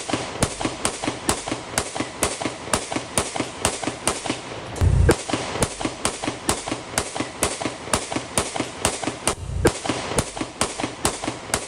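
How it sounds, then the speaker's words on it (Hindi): Shooters firing at a house let off a long, regular burst of sharp cracking shots, about two per second, over nearly twelve seconds, loud and echoing, with a couple of heavier thumps mixed in. "पहले आप सुनिए जरा कैसे फायरिंग की गई है"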